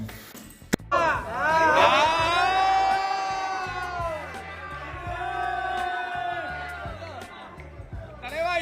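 Fans roar, whistle and cheer for Rajinikanth as he poses at the Ambani son's wedding, a loud sustained crowd din with shrill whistles swooping over the shouting throughout.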